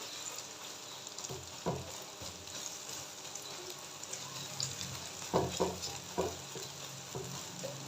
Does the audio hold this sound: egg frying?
yes